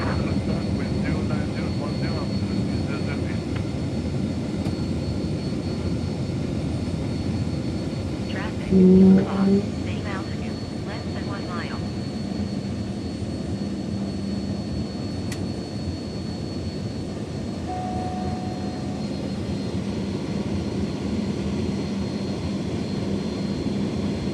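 A steady, loud roar of jet engines fills the cabin of an Embraer Phenom 100 business jet in flight, with a brief clunk and a faint electronic tone partway through.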